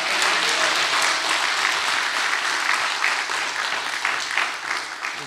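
A church audience claps together in thanks during a lecture event, a loud continuous wash of applause from many hands that holds steady and then slowly thins toward the end.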